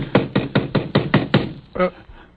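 Knocking on a door in a radio drama, seven quick even raps in a close, crisp run, followed by a short muffled thud.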